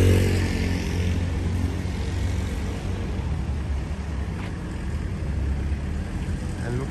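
A motorbike rumbles past on a busy Sunday morning street in Medjugorje during high season, a steady engine drone loudest at the start and easing off as it moves by, with background crowd noise.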